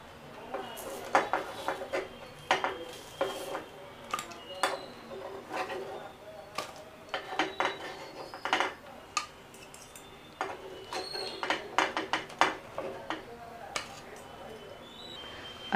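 Cooked appe being lifted out of an appe pan into a bowl, with repeated close metallic clinks, taps and scrapes of a utensil against the pan and dish in an irregular rhythm, a voice talking at times.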